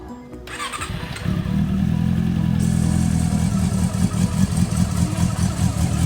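A Honda CB400 motorcycle engine starts up close by, catching after a short crank and settling into a loud, steady, throbbing idle with a rapid rumbling pulse.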